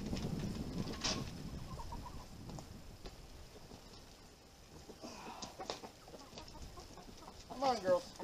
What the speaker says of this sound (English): The chickens are not happy.